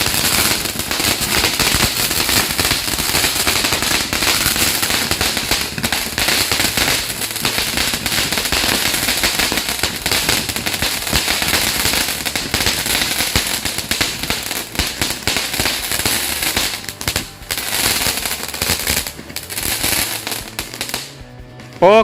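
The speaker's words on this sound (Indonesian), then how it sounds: "Lumayan hasilnya dari mercon Basoka guys." Mercon Basoka firecrackers go off in a dense, nonstop barrage of loud crackling bangs during a night of Ramadan fireworks, the rapid pops thinning slightly toward the end.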